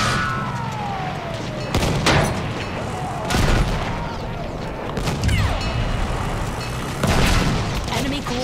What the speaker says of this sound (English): guy is shooting me from behind